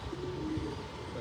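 Pigeons coo softly in short low repeated phrases on an open rooftop terrace, moderately close, over a steady background hiss with no talking.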